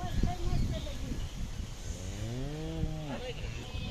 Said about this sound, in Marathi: गाय आहे दुधाची गाय आहे